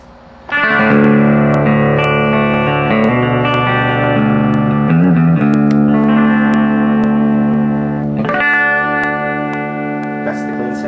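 Sustained chords ring out from a clean electric guitar through a Super Reverb amp, with a lush reverb tail and a fresh strum near the end.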